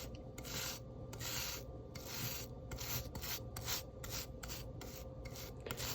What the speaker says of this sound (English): We got a little brush right here. Listen to this.